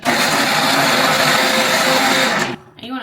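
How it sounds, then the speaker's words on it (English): A kitchen blender whirs loudly and steadily up close for about two and a half seconds, then cuts off abruptly, leaving a brief quieter tail with some rustling. "Anyone else just shake the living daylights out of their blender so that it works quicker?"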